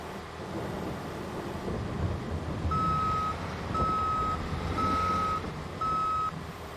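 Reversing beeps from a skid steer in Farming Simulator 22, four steady evenly spaced tones over a rumbling engine and rain-like wash on a tight farm map.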